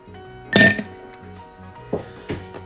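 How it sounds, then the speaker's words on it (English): Ice cubes are put one by one into a glass at a bar, about three cubes: a loud, bright clink followed by two lighter knocks against the glass, close up and without talk. "So just put about 3 cubes of ice into this glass."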